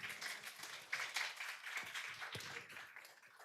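An audience at a university and career day event claps in a round of applause, a soft, dense patter of many hands heard from a distance.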